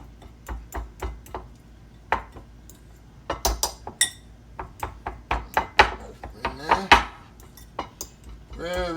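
Hard-boiled egg yolks mashed with a fork in a bowl for old-school deviled eggs, a quick series of close metallic clinks and taps against the dish, growing busier toward the end.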